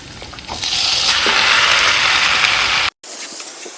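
Masala-marinated chicken hits a pan of softened onions with a loud, steady, close sizzle that holds for several seconds, cuts out briefly, then returns.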